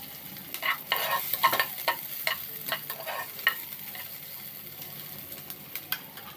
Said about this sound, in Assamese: এতিয়া কেপচিকামখিনি দিম। এইখিনি লৰাই দিম এনেকৈ।